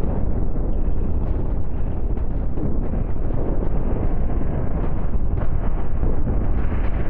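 Continuous roaring rumble of explosions in the spaceship game Cosmoteer: Starship Architect & Commander, loud and dense throughout, with a deep low-end boom and crackling bursts layered on top.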